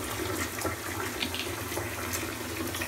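Water running from a tap into a filling bathtub, a steady hissing splash that is loud and continuous for the whole stretch with no voices over it.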